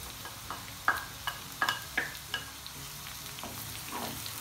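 Onions are stirred as they fry in a pan for a traditional Rajasthani raw turmeric dish, with a constant sizzle and a run of sharp spoon scrapes and clicks against the pan, close and clear, no voices.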